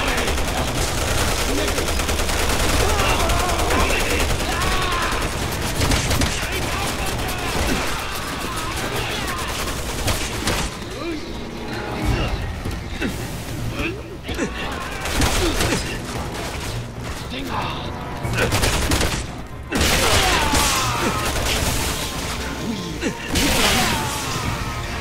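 Dense gunfire from the video game Resident Evil 6, played in Chris's campaign during the Ace of Spades chapter. Loud bursts and rapid automatic fire run almost continuously, with voices talking over the combat.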